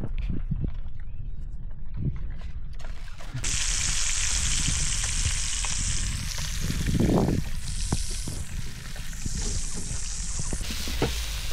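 Silver carp fish heads from a local pond fry in a pan outdoors in a village field, giving a steady, dense sizzle that runs throughout, with occasional clatters and stirring noises.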